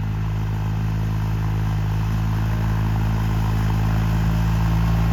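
A new New Holland 3600 tractor's engine idles on its first day of running, a steady low diesel drone with a constant hum, near and loud with no change in pace.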